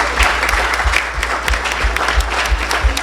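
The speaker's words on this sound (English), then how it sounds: "how about a big round of applause for all of our sponsors?" A cybersecurity conference audience in Washington, D.C. claps for the sponsors, steady full applause from a sizable crowd over a low rhythmic thump, with no talking.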